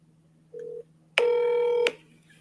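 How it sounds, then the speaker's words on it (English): Telephone keypad dialing tones: a short lower beep followed by a longer, louder two-part tone, clear and close against a faint steady hum. "I'm calling your phone"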